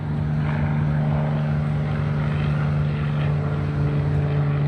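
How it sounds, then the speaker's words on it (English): Propeller plane flying over San Diego Harbor, a steady loud droning engine hum holding constant throughout with no talk. "Oh, here's an interesting plane."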